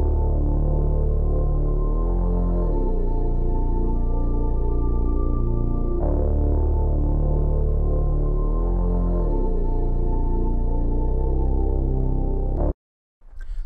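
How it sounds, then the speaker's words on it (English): Synth bass line from a Discord bass drum-kit sample in FL Studio, outlining a chord with a raised fifth: loud, deep sustained notes with gliding pitch changes, repeating in a two-bar pattern, then cutting off briefly near the end. "I did this bass line using the Discord bass from my recent drum kit."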